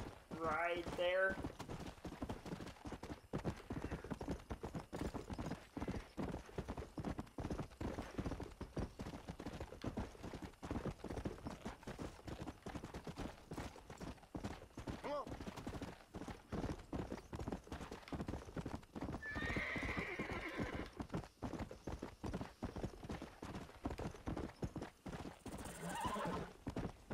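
Horse hooves gallop in a quick, steady clip-clop rhythm through Red Dead Redemption, moderately loud, with a whinny near the start and another partway through, and faint voices now and then.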